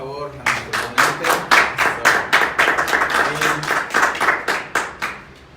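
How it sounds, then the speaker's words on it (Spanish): A small audience at a lecture claps for the speaker in a loose, rhythmic patter of distinct hand claps, moderately close and steady for about five seconds, with faint room murmur beneath. "un aplauso por favor a nuestro ponente."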